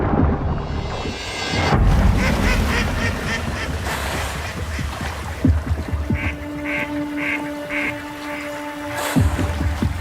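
Mallard ducks in a garden setting quacking in a series of clear, fairly close calls, some in short repeated bursts over a soft outdoor background, with no talking.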